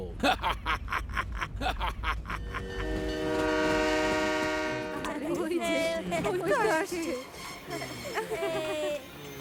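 An animated animal train carrying creatures from the Arctic and Antarctic rumbles along and blasts a long, loud, sustained horn, with rhythmic rail clatter before it and voices and laughter following.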